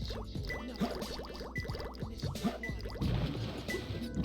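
Quick bursts of liquid dripping and gurgling play out in Sonic Adventure 2, loud and close, with irregular drops layered over game music before the texture turns denser and bubblier toward the end.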